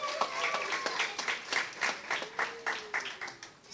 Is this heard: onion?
no